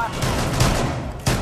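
Gunfire in a Rainbow Six Siege match, a few sharp shots spaced through the moment with a louder burst near the end, mixed with faint voices.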